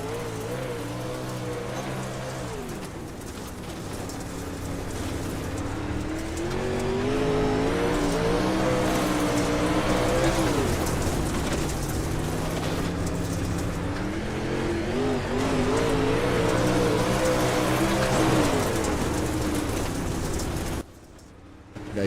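A dirt late model race car engine in a racing video game, revving loudly and continuously, its pitch climbing and falling as the throttle is worked on and off through the laps, with a brief drop near the end.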